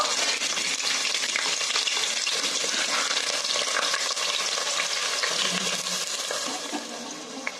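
Chopped onion frying in oil in a wok while mutton is being braised, a loud, dense sizzle with stirring scrapes that runs continuously and eases slightly toward the end, no talking.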